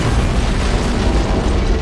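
An antimatter charge detonates aboard a ship in Halo: Combat Evolved, a loud, continuous, low-heavy blast and rumble that fills the whole moment with no talk over it.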